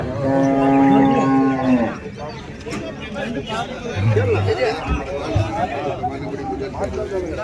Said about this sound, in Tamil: வயசான காளைங்க தான்.